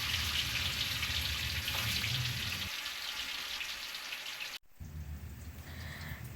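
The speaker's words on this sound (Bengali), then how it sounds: "তো প্রথমেই আমি একটু নুন মাখিয়ে পনিরগুলো তেলের ভিতরে দিয়ে দিলাম।" Salted paneer frying in hot oil in a wok, a steady dense crackling sizzle that runs throughout, briefly cut off near the end before resuming, with no talking.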